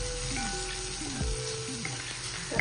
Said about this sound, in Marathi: इथं आपला कांदा टोमॅटो चांगला परतलेला आहे